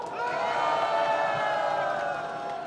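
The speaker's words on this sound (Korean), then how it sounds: "뜨거운 박수로 모시겠습니다." A crowd at a candlelight protest rally cheers and whoops in a sustained, loud swell of many voices that holds steady for a few seconds before easing slightly.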